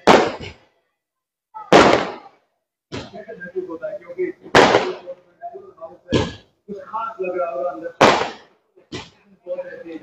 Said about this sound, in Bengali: আতশবাজি ফাটানো হচ্ছে ভারতের